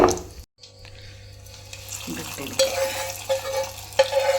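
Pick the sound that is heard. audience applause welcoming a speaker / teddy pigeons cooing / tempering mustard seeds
tempering mustard seeds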